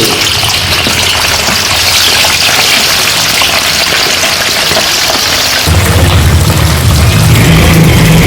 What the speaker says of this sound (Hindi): तो इस घी में अब हम ये लेग पीस डालेंगे।